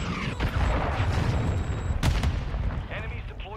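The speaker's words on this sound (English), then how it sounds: "Hostile cruise missile launched." A cruise missile strike in Call of Duty Modern Warfare II rumbles loud and dense, with a sharp heavy impact near the middle. Wind and debris noise follow, then the rumble fades.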